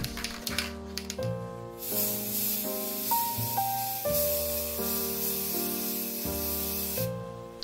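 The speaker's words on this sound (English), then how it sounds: "sprayed his head with a primer to ensure the best adhesion." Primer spray-painted onto the head of a vintage Ken doll from an aerosol can, a steady hissing spray running through the clip under a gentle background melody.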